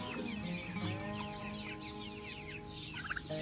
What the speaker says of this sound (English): These chicks are only a few days old now